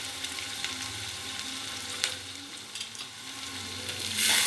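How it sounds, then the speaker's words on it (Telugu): Tomatoes go into a pan with drumsticks and brinjal, frying with a steady close sizzle and occasional stirring scrapes, then a louder hissing surge near the end, with no talk. "కొంచెం మగ్గనివ్వాలండి మగ్గనిచ్చినాక టమాటాలు కూడా వేసేస్తాను ఇదిగోండి టమాటాలు"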